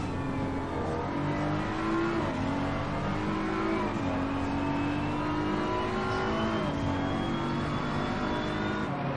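Race cars in a racing video game holding a steady engine drone with rising and falling revs as they drive and overtake, continuous and fairly loud throughout.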